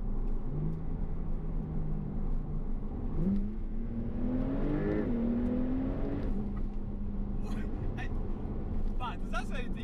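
Cabin sound of a 2020 Porsche 992 Turbo S Cabriolet with the roof up in sport mode, a steady engine drone rising through a rev sweep midway and then settling back, loud and continuous throughout.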